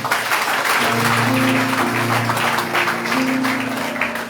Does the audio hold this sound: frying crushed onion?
no